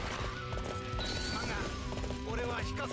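Horse hooves clip-clop and a horse neighs in the video game Dynasty Warriors 8 Empires, heard amid dense battle noise and game effects, with a person talking over it.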